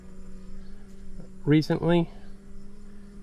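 Steady low hum of bees clustered in a beehive with dying or failing colony, with a brief burst of nearby talk over the drone midway.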